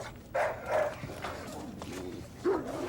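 Dog barking in a scene from the 2000 film Amores perros, several short barks spread across a few seconds at moderate level, mixed with background noise and some voice.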